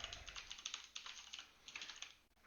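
Rapid, light clicking of keys on a computer keyboard as a name is typed, a quiet, close burst of uneven taps running nearly the whole time before trailing off.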